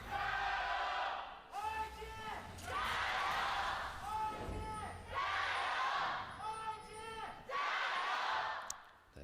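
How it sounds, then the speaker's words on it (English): A loud arena crowd at an LPL Spring Split League of Legends esports match in Shanghai, FunPlus Phoenix vs. Invictus Gaming, roars and cheers in repeated swelling waves, with a commentator talking underneath. "That is a loud crowd in Shanghai."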